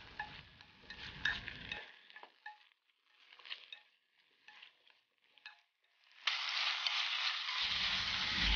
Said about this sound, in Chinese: 小火煸炒